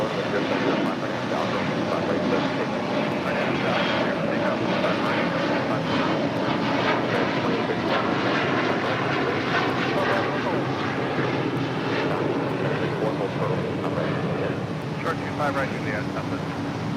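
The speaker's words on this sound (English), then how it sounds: "That is United Airlines Flight 1093 coming in from Denver, Colorado" A United Airlines Boeing 757-300 arriving at LAX from Denver gives off a loud, continuous engine roar close by, with voices talking over it.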